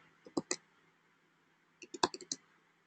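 Typing on a computer keyboard in two quick bursts of crisp, close key clicks separated by a pause, with no voices.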